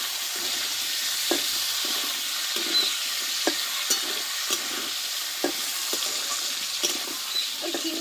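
Washed flat beans stir-fry in a hot pan for a simple meat-free dish, a constant close sizzle broken by regular spatula taps and scrapes against the pan.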